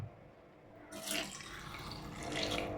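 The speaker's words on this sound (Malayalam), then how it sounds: "ഇതിലേക്ക് ആവശ്യത്തിന് വെള്ളം ഒഴിച്ചു കൊടുക്കാം" Water starts pouring after a brief quiet moment, a steady splashing fill into a cooking pot of drumstick and potato curry that swells slightly toward the end.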